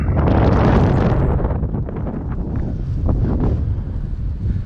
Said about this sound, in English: that's certainly a windy spot